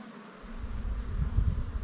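A bee carrying pollen on its legs buzzes close by, a short, steady low drone that swells slightly as it moves, with no talking.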